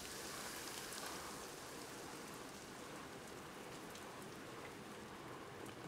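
Steady rain falls in the post-apocalyptic video game Death Stranding, a soft, even hiss of raindrops spattering on surfaces, continuous and fairly quiet with no voices.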